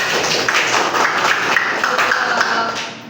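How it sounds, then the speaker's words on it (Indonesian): A classroom group claps together for a student, a steady burst of applause lasting about three seconds before it fades slightly at the end. "Boleh kasih tepuk tangannya?"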